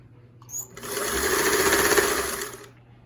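A Singer 328k sewing machine stitches a zigzag, a steady mechanical whir that starts abruptly, runs for about two seconds and then stops, alone and close.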